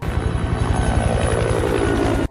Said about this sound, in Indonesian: Sebuah helikopter terbang mengarah kepada Rovach.